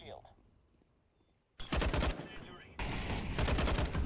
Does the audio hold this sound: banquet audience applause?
no